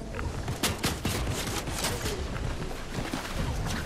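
Rapid assault rifle fire in a battle royale game during a ranked trios match, dense bursts of sharp shots cracking repeatedly over a noisy background, with no talk.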